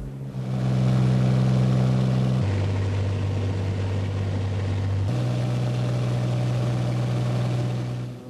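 A propeller aircraft's engines drone steadily in flight on the way south to Thunder Bay, a loud, even hum heard from inside, with two abrupt shifts in pitch.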